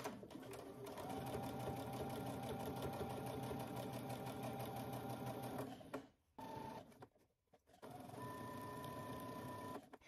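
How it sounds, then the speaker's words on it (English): A sewing machine top stitches close to a folded quarter-inch fabric edge on a sleeve hem, running steadily and close for about six seconds, pausing briefly, then resuming. "now I'm gonna top stitch close to the edge"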